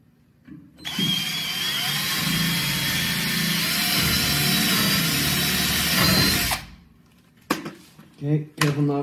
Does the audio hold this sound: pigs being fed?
no